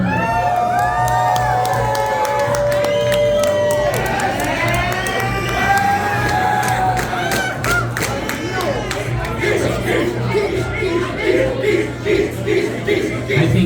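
An audience at a drag competition show cheers, whoops and claps for a contestant taking the stage, a loud, sustained roar of high-pitched shrieks and clapping with music underneath.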